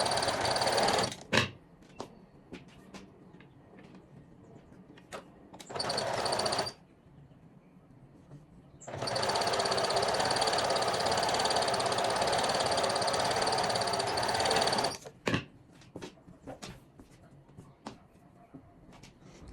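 Sewing machine stitching the side seams of a garment, running in steady whirring bursts, one short and one longer, separated by quiet pauses with small clicks and handling noises.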